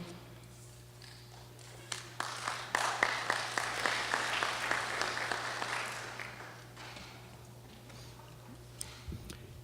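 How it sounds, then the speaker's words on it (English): Audience applause at a flood relief town hall meeting, a crowd clapping steadily for several seconds over a low hum before fading into scattered claps. "I'm not used to applause, so that warms my heart"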